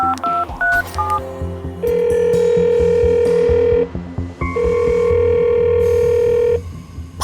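A phone call to a mother's mobile: quick DTMF keypad tones are dialed, followed by two long, steady ringback tones with a pause between, the call going unanswered; no talking.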